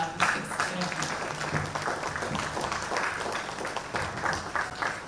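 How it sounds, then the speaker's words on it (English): A conference audience at the NIGGSA 2025 event applauds in a moderate, continuous round of clapping, with some voices in the crowd mixed in. "A better round of applause for Ms. Ashley Oluwakemi Emmanuel."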